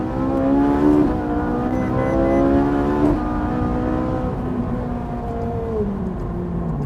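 Ferrari 458 Italia engine pulling hard, its high-pitched note climbing through gears with shifts and a falling pitch toward the end, loud and close with no talk.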